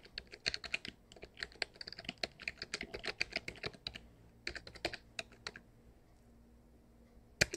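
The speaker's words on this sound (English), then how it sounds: "You have to type it from time to time." Typing a long password on a computer keyboard, bursts of crisp clicking keystrokes close up, pausing briefly and resuming, then trailing off into near silence with one last tap.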